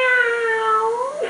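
A single clear cat meow, loud and close, with a long drawn-out falling tone over about a second that turns up sharply at the end. In a French children's story, it may be a voice imitating a cat.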